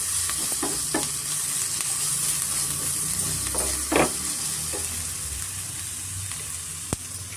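Ginger garlic paste with turmeric fries in a pan for an egg pepper fry, giving a steady close sizzle with a few light scraping stirs and one sharp tap near the end, no voices.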